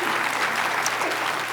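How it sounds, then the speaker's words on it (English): Audience at a nursing candle lighting ceremony breaks into steady, even applause, a dense wash of many hands clapping throughout. "The reason we're all applauding"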